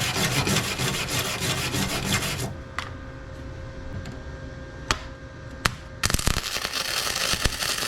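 A MIG welder fuses a steel exhaust pipe, its harsh crackling, sizzling hiss running loud and continuous, then pausing briefly with a few small pops before the arc starts up again.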